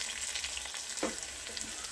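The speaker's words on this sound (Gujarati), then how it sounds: "તેલ ગરમ થઈ જાય એટલે રાઈ ઉમેરીશું, સફેદ તલ ઉમેરીશું" Mustard seeds, white sesame and chopped curry leaves sizzle in hot oil as a tempering for rava dhokla, a steady close crackling hiss throughout with a brief sharper spatter near the middle.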